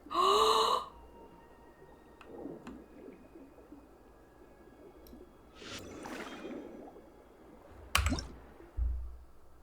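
Underwater diving in Genshin Impact, with a splashy plunge followed by muffled watery swishes, soft bubbling and scattered squishy plops, mostly faint, with no talk.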